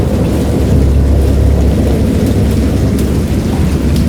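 Steady heavy rain pours down with a deep continuous rumble of thunder rolling beneath it, dense and enveloping throughout.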